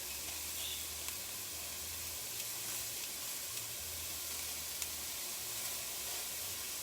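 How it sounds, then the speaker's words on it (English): Chunks of beef sear in a hot pan, giving a steady, moderate sizzle with occasional soft pops and faint clicks of stirring. No one speaks. "And it's just a quick sear."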